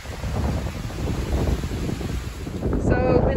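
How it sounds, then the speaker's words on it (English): Strong wind gusts across a high, exposed spot on the Bustard Islands, buffeting the microphone with a heavy, rumbling roar that stays loud and constant and swells slightly near the end. "It is very windy up here."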